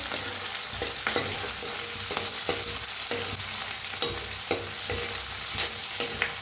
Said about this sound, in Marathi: ह्याच्यात टाकूया कढीपत्ता भाजून घेऊया